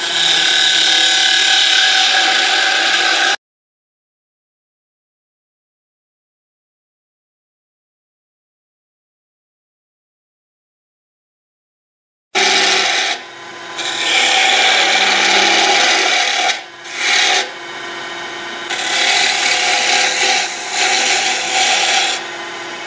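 Bowl gouge cutting away wood while turning a scoop on a lathe, a loud continuous rasping scrape in two long passes separated by a long silence, with brief dips in the second pass and no speech.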